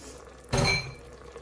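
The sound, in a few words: stirring beef and broccoli sauce in Instant Pot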